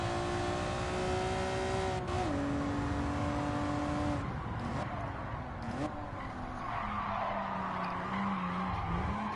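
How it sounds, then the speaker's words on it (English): Race car in Gran Turismo 7 sliding out and skidding through a flat-out sweeper, engine droning steadily while tires squeal in long continuous smears, loud and close with no talking. "No, the car was sliding out."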